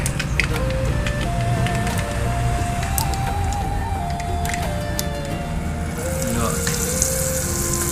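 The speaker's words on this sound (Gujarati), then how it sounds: "તો રહી આપણી ફૂટી જાય છે કમ્પ્લીટ।" Mustard seeds splutter in hot oil for tempering over a traditional clay stove, a dense steady crackle and sizzle heard close up from start to finish, with faint pops scattered through it.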